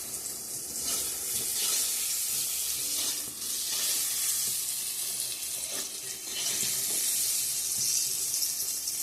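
Brinjal slices frying in a pan give a loud, continuous close sizzle with hissy bursts of spitting oil, and no voices over it.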